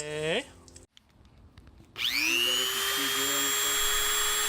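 Rotary cutting tool slicing out a wiring harness box on a Nissan S13 fender, a high-pitched whine winding down, a short pause, then a steady spin-up that holds through the end, fairly close.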